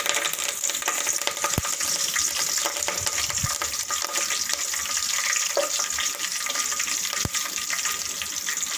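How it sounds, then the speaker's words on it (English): Curry leaves crackle in hot oil for a fish curry, a dense continuous sizzle with a few sharp pops and clicks, close and fairly loud, no talking. "Let's fry the curry leaf."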